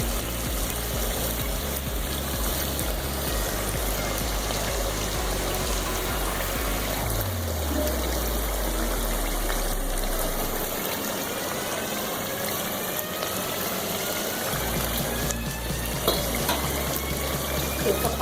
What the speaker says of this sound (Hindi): अब हम इसमें पानी डालेंगे ताकि ये थोड़ा और गल जाए